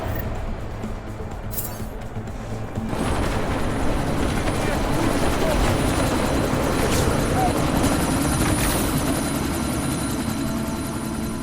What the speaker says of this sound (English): chopper's been grounded